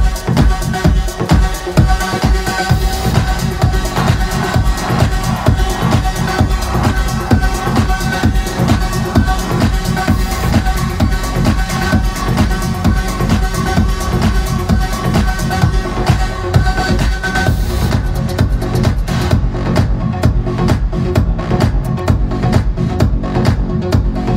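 Two dance tracks blended together, a steady thumping four-on-the-floor beat with layered basslines and synths playing continuously and loud.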